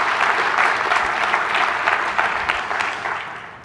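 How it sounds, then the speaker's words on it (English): An audience claps steadily at a conference opening, a dense sustained round of applause from a large crowd that stays loud and even throughout, with no talk over it. "how about a round of applause for that?"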